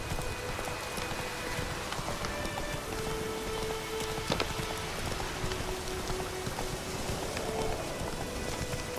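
Rain falls at night in The Witcher 3, a faint, steady patter on the ground, with a few soft thuds and a thin tone running beneath it.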